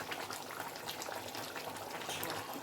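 Spicy Andhra-style fish curry simmers in oil over medium heat, giving a steady, close bubbling and sizzling hiss that runs evenly throughout with no pauses.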